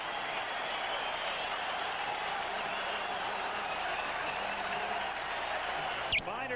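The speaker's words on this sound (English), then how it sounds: "Listen to the crowd." A large ballpark crowd at a Royals versus Blue Jays game in Toronto roars in a steady, sustained wash of cheering and applause, with one sharp whistle near the end.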